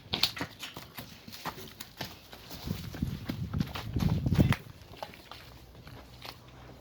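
Horse hooves clip-clop on hard ground at a horse market with a tall Polish-bred horse, quick irregular knocks under low background noise, building to a louder scuffle before fading.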